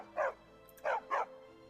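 A dog in modded Skyrim barks three times: one sharp bark, a pause, then two quick barks close together, all loud and near over a faint game-ambience hum.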